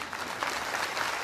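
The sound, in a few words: audience clapping at religious gathering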